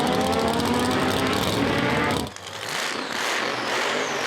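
A six-second Chevy Nova doorslammer drag car blasts past at a drag strip, a loud close engine roar that cuts off abruptly and gives way to a fainter, receding rumble.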